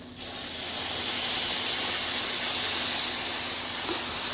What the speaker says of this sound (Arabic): واول ما تاخد اللون البني بتاع البصله كده هنزل معايا بكوبايه من اللبن كده